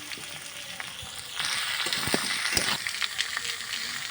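Chopped vegetables with ginger and cumin frying in a pan, a steady close sizzle that swells louder partway through, with a few scraping clicks over it and no talk.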